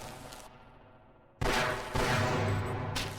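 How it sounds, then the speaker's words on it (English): Enemy soldiers' gunfire in Half-Life crackles in loud, sustained volleys that break in abruptly after a quieter stretch, close and harsh, with no talking. "Who's shooting at me?"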